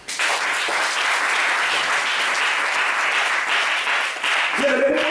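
A church congregation claps and applauds for the Lord in a steady, dense wash of hands that lasts throughout, with a voice breaking in at the end.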